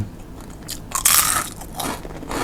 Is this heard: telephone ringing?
no